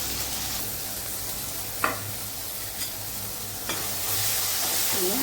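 Three tomatoes with a little salt fry in oil over a sautéed base in a home kitchen, giving a constant hissing sizzle punctuated by a few brief spatula scrapes.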